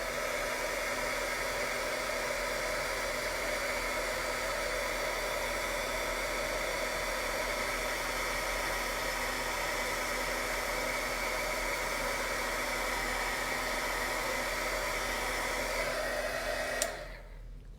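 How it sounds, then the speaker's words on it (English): An embossing heat gun blows steadily while heating foil, a constant loud airy whoosh that holds unbroken for a long stretch before clicking off near the end, with no talking. "I'm going to turn the embossing gun on, and I am going to heat this up"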